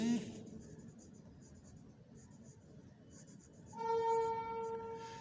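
Chalk or marker scratches across a board during a school English lesson, a continuous close scratching that ends in a brief stretch of higher squeaky strokes.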